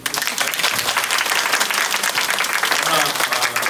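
A church congregation applauds steadily after a choir performance, dense clapping filling the whole moment at a loud, even level.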